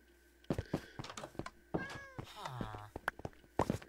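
Cats meowing in the Minecraft video game, several short, fairly quiet mews scattered between footsteps and knocks, with a player's voice talking over them.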